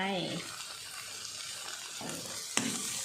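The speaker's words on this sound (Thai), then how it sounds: "เติมกะทิไปทีละนิดค่ะ แล้วก็ค่อยๆผัดไป" Curry with coconut milk stir-fried in a pan gives a steady broadband sizzle, with a brief scrape or clink of the utensil near the end and a faint voice at the start.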